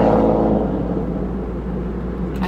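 A car rushes past at speed, its engine rumble and whooshing road noise loud at first and then easing off as it moves away, with no talking.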